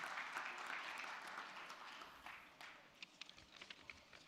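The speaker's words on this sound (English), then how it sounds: "a big round of applause for Puneet for supporting us in all the fronts" Applause from a conference audience at an Institute of Chartered Accountants of India event, a fairly faint, dense patter that thins out toward the end into a few scattered, sharper claps.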